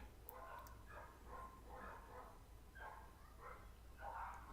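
Several dogs barking outside at a distance, bursts of barks coming in irregular clusters, faint and muffled as heard from inside a room.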